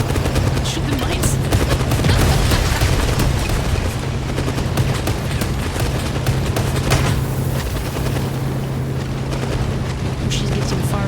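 Continuous loud gunfire aimed at mines, dense rapid bursts mixed with booming blasts and a steady low engine hum, close and relentless throughout.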